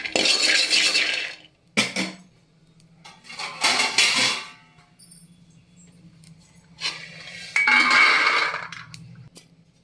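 Roasted peanuts are tipped from a pan into a bowl, producing bursts of metallic scraping and clinking from utensils and cookware, separated by quiet gaps with a low hum in the background.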